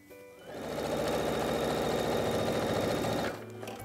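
A sewing machine stitches the hem of a pair of shorts, a close, steady rapid mechanical whir that starts up, runs evenly for about three seconds and stops.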